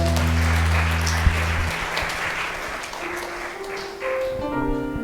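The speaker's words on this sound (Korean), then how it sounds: "하나님께 영광의 박수를 올리겠습니다" Church congregation claps in praise during a worship service, steady applause from many people layered over sustained keyboard chords that shift and rise near the close.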